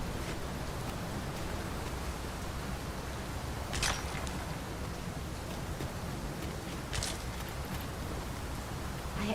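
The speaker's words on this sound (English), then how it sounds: "It is raining most heavily." Heavy rain in Dragon's Dogma 2, a dense, continuous hiss of downpour with steady pattering and occasional brighter rustling bursts, loud and even throughout, no talking.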